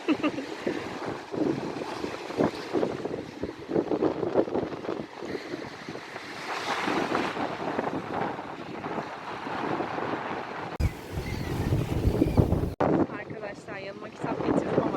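Gusty wind buffets the microphone with a low rumbling roar, broken by a harder blast near the end, while a voice talks faintly underneath.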